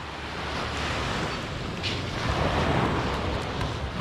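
Surf rolls onto the beach at Senggigi, Lombok, where fishing boats line the shore. It makes a continuous broad wash of waves with some wind rumble, fairly loud and with no talk.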